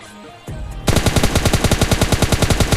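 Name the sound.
gunfire in the video game PUBG Lite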